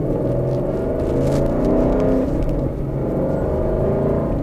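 Deep rumbling idle of a 2020 Ford Mustang Shelby GT500 engine, heard from inside the car as a steady, loud low burble that swells slightly partway through, with no talking.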